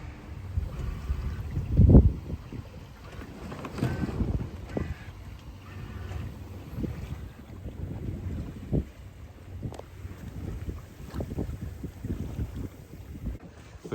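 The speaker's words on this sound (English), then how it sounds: "the wind's just kind of moved a little bit behind us" Steady wind buffeting a microphone aboard a sailboat crossing open water toward Mallorca, a continuous rushing roar with gusty swells and a louder thump early on, no voices.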